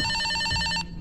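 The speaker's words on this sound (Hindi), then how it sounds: "किसका फोन बज रहा है?" A telephone rings in the horror video game Escape the Backrooms, a bright rapid electronic trill with steady repeating pulses that cuts off abruptly, loud and close over faint background noise.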